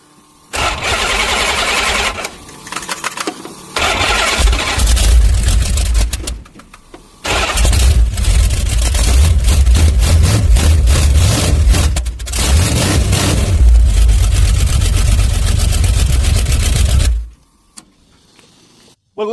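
A 'Red Rocket' car engine cranks and fires up after a fuel starvation fix with a new 15-gallon Evil Energy fuel tank, then settles into a loud, steady rumble before abruptly cutting off near the end.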